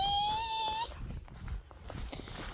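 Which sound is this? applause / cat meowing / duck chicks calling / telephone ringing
cat meowing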